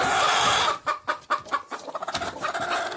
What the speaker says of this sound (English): We have a broody hen here, and a broody hen there.